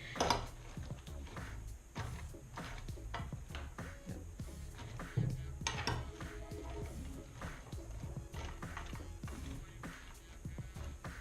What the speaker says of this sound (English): Try to stir that without throwing everybody outside this bowl here.